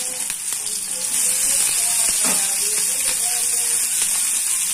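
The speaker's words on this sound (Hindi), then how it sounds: "ये सबको डाल कर अच्छे तरीके से थोड़ा भून लेंगे, लाल हो जाएगा।" Green chillies, ginger and garlic sizzle in hot oil for a tempering, a loud steady frying hiss with scattered crackles and pops and occasional stirring scrapes, close to the pan.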